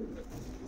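Pigeons coo softly in a steady low murmur, with several birds blending together at moderate distance and no voices over them.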